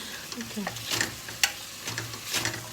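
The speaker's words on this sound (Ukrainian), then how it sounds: "Перемішуємо." A spoon scrapes and stirs through meat frying in a pan, soft sizzling beneath the uneven strokes, close and fairly quiet.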